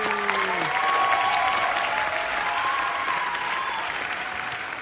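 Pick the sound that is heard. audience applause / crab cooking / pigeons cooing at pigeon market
audience applause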